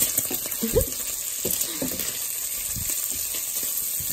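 Bacon fries in a pan for a pizza topping, giving a close, steady crackling sizzle with occasional louder pops and spatters.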